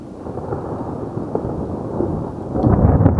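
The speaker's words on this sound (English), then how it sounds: "I'm gonna wait for the thunder to come" Thunder rolls during a lightning storm in Portland, Dorset, starting as a low distant rumble and swelling into a loud, heavy crash near the end, with no voices.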